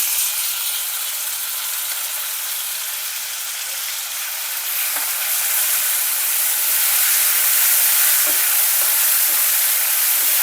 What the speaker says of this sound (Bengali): এখন আমি টমেটোটা দিয়ে দিচ্ছি, বেশ কিছু টমেটো।